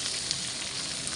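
Tomato and green chilli frying in hot oil with mustard seeds and curry leaves, a steady dense sizzle holding close and even throughout, with a few small pops and no talking.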